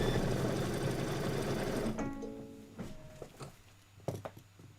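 Domestic sewing machine stitching a quilt block runs loud and steady, a dense continuous whir that stops abruptly partway through, leaving a few scattered clicks and knocks in a quieter room.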